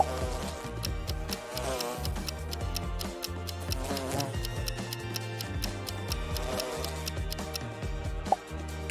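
A bee in a riddle-style cartoon buzzes continuously over busy background music, the insect drone rising and falling through the whole stretch.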